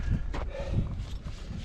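A horse's hooves clop at a walk on desert ground during a ride, a few soft, uneven thuds close by.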